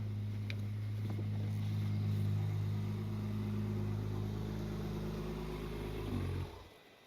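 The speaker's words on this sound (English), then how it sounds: "let's hear the idle even if the V6 is running." Ferrari 296 GTS twin-turbo V6 idling close by with a deep, steady rumble that fades as the engine shuts off near the end.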